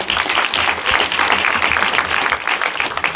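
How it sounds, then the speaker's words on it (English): A crowd at a film festival trans summit event in Los Angeles claps loudly and continuously, the dense applause staying strong and close for about three seconds. "Another round of applause."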